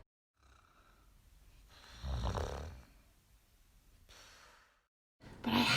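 A person snores in slow, quiet breaths, an inhaled rasp followed by a softer exhale, repeating with gaps of near silence and a louder breath at the end.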